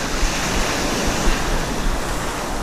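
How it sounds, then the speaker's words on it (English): Rough sea surf crashes and hisses steadily while fishing from shore with a spoon lure, with wind buffeting the microphone, loud and unbroken. "Despite the very rough waters."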